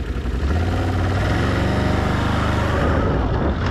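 A Can-Am off-road vehicle's engine running loud and close, a continuous throbbing drone that holds steady throughout, with a slight rise in revs and no talk over it.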